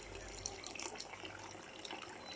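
Water pumped by an electric motor from inside a stump pours steadily out of a pipe, a continuous close tap-like splashing flow with no voices.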